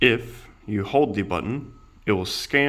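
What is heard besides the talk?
No everyday noise stands out behind the speech.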